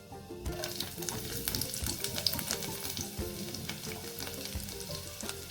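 A spoonful of cumin seeds with finely chopped garlic crackles and sizzles continuously in hot ghee, a close, busy frying hiss with sharp popping seeds throughout.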